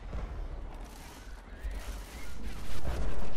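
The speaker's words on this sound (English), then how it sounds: "That thunder is a little loud." Thunder in the zombie shooter Left 4 Dead 2 rumbles low and loud, a dense rolling boom that swells near the end like distant bombs or fireworks.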